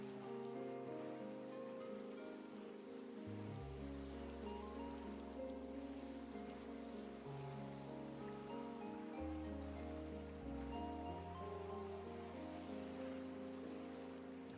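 Steady rain in the video game Minecraft makes a soft, continuous hiss beneath sustained, slowly shifting background music, unbroken for the whole stretch.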